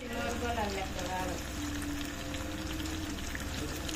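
Fish bread cutlets frying in hot oil, a steady close sizzle and bubbling with a brief earlier hiss, while a person talks over it.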